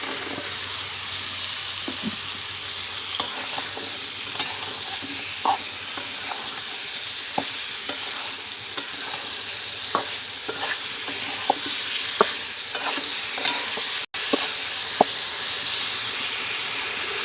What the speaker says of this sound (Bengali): এখন দিয়ে রাখা সিম আলু ঢেলে দেবো মশলার ভিতরে